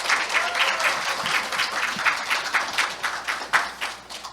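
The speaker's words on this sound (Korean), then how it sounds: "박수로 맞이해 주시기 바랍니다." Audience applause welcomes a presenter at a university liberal-arts education innovation forum: sustained, dense clapping from a crowd that swells and fades slightly over several seconds, with no talking.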